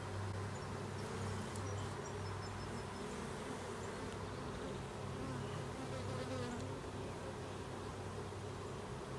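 Honeybees from a first-year backyard hive that is trying to swarm hum in a dense, steady buzz close by, filling the whole stretch with no break.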